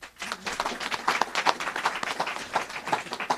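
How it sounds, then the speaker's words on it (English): Audience applause for Governor Murphy at a school funding event, a lively burst of distinct, close claps with an uneven rhythm from a modest crowd. "Let's give another round of applause to Governor Murphy"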